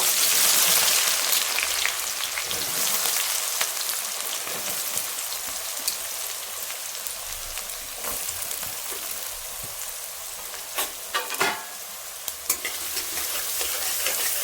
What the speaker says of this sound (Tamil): எண்ணெய் நல்லா சூடாயிடுச்சு. இந்த டைமில் நம்ம கட் பண்ணி வச்சு வெங்காயத்தை சேர்த்துக்கலாம்.